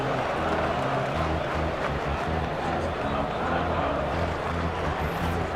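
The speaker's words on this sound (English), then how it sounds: "The crowd is going crazy." A baseball video game crowd in MLB 2K7 roars steadily through an opening day stadium scene, a dense continuous wash of cheering and noise with no pauses.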